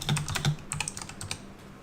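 Rapid keystrokes on a computer keyboard, typed without looking, close and fairly loud, forming an uneven stream of clicks with no talking.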